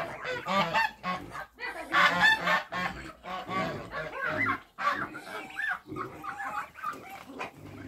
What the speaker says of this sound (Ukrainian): А ці гусі хай додому йдуть.